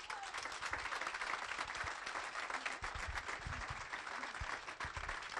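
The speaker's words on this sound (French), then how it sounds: "Vous pouvez vraiment l'applaudir" An audience at a political programme presentation in Allauch applauds a speaker, dense sustained clapping from many hands that fills the room evenly throughout.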